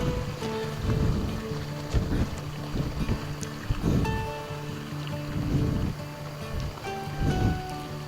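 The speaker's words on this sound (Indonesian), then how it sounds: "debit Sungai Bogowonto sebenarnya nggak terlalu gede ya" Bogowonto River flowing at a modest level near a dam construction site, a steady broad wash of moving water with gusty wind buffeting the microphone throughout, fairly loud and continuous.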